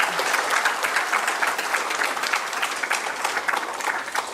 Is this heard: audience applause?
yes